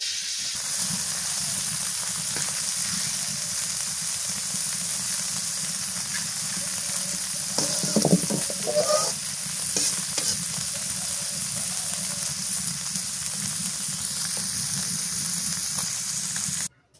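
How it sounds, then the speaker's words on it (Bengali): Fish frying in hot oil in a pan, a steady, close sizzle and hiss that runs unbroken, with a brief clatter of stirring or turning midway. "মাছ সবগুলা ভাজি করে নামাই নিলাম।"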